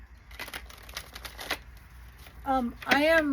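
Tarot cards being shuffled by hand, a series of quick papery riffles and flicks, with a person talking near the end.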